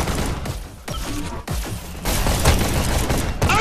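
Gunfire in the Hyper Dash VR deathmatch video game, a loud, dense, continuous spray of shots with a few sharp bursts standing out, and no talking over it.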